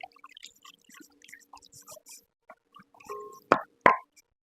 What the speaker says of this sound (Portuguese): Vou colocar o restante da água.